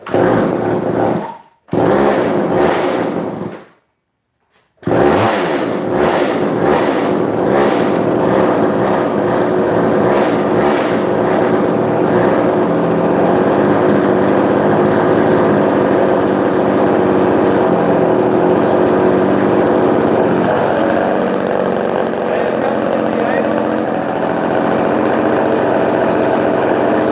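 A chainsaw engine cuts out twice in the first few seconds, then settles into a loud, steady idle after a carburetor adjustment and runs evenly for over twenty seconds with no talk.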